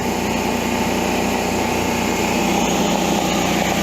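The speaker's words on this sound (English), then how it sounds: "So let's go ahead and stop generator." A small generator engine runs steadily at a high, buzzing pitch, loud and close, without noticeably winding down within these few seconds.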